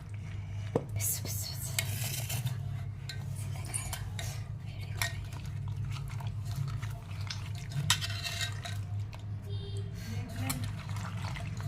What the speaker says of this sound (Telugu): చింతకాయలు ఉడకబెట్టి పెట్టినా ఇప్పుడు వేయాలి